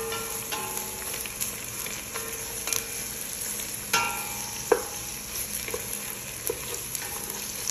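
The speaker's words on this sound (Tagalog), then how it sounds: "Isusunod ko na itong carrots. Haluin ko siya, imimix ko siya dito sa onion." Carrots being stirred into softened onions in a frying pan: a steady low sizzle with scattered scraping clicks and one sharper utensil knock, close and alone with no talk.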